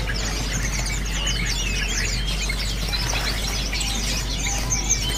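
A local sooty-headed bulbul chirps among a busy chorus of caged songbirds at a bird seller's stock, with bright tweets overlapping continuously over a low steady hum and no speech.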